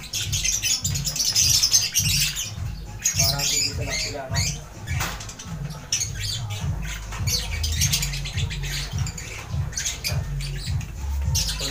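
Small pet birds chirp and squawk busily close by while being fed kangkong, with rustling and pattering, while a person talks quietly over them.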